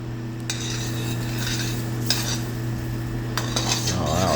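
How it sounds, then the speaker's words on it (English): Utensil clinks and scraping as lemon peel is stirred in a simmering pot, a few sharp metallic taps over a steady low hum, close and fairly loud. "we'll just bring that down so you can stir it"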